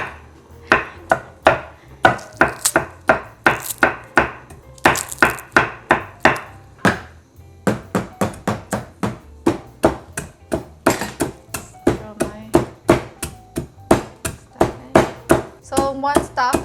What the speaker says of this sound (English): So 1 stalk of lemongrass chopped up.